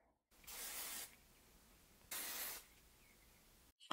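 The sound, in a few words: AG Care Ultra Dynamics hairspray being sprayed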